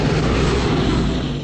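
B-17 bomber engines returning from a mission in the film Memphis Belle, a loud, dense and continuous piston-engine drone with no talking.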